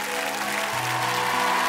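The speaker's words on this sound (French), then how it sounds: "Oui, on peut l'applaudir." A television studio audience at a French 1990s music show gives loud, sustained applause, an even, close roar of clapping that fills the whole moment.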